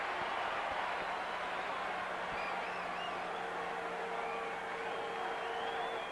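Steady crowd noise at a Dodgers vs Giants baseball game, a broad continuous roar with faint cheering swells, heard at a distance with no one speaking.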